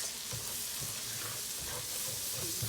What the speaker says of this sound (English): I'm just gonna keep mixing this until my butter is melted